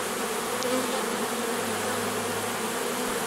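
A large natural honeybee swarm moving down into a 12-frame Dadant hive gives a steady, dense buzzing drone close by, continuous throughout with no voices.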